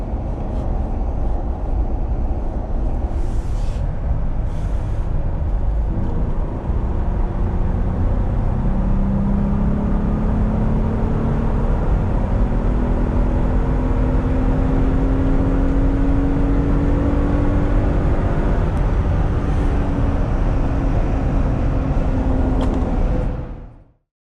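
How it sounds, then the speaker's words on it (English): A Jeep JL engine fitted with a JLT cold air intake runs hard on a dyno, a loud sustained roar climbing steadily in pitch through the rev range for about twenty seconds before cutting off abruptly. "Okay, JLT installed, 54, make a dyno run pass."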